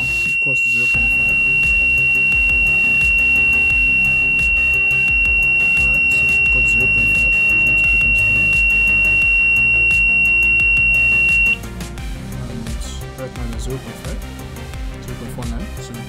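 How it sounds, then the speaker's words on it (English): An air quality monitor's alarm, set off by sprayed perfume, sounds a steady, loud, continuous high electronic tone over a busy background for about eleven seconds, then cuts off. "then sprayed the perfume again, and the alarm came on"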